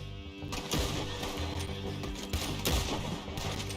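Gunshots in Red Dead Redemption 2, dense overlapping gunfire in a fast volley under constant background sound.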